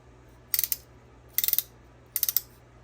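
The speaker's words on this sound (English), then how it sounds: "Here's a Craftsman ratcheting wrench here. Box end ratcheting wrench." Three quick bursts of sharp ratchet clicks from a Craftsman box-end ratcheting wrench, each a short run of several clicks, close and crisp against quiet background hum.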